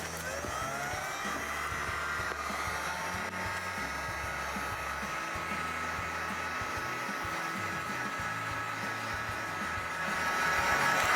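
A heat gun blows steadily while warming the arrowhead seal of a pop-up camper canvas for its track, a constant airy roar at close range that grows slightly louder near the end.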